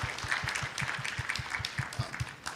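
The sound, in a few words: audience applause for conference panelists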